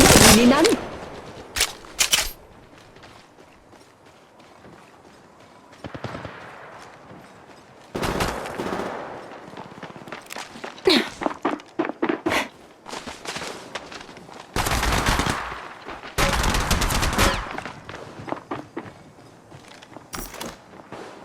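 Bursts of automatic gunfire in a battle royale shooter with a moving safe zone and incoming care packages, repeated volleys, some close and loud, others sparser, with quieter gaps and footsteps between.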